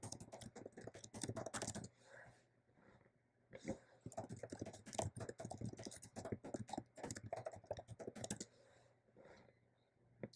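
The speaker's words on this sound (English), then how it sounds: "I can type my message." Someone types a message on a computer keyboard, producing quick, close clicking keystrokes in bursts separated by short pauses, with no talking.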